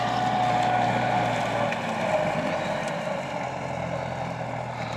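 Veles Agro wheeled field implement working a field before sowing at about 15-17 km/h, giving a steady loud machinery rumble with a low hum that holds constant throughout, no talk.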